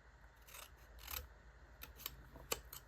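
Scissors snip paper for a scrapbooking layout, cutting a flagged dovetail edge: a series of quick, crisp close-up snips in irregular rhythm, fairly faint, with no talking.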